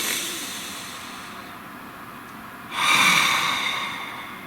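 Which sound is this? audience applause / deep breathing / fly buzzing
deep breathing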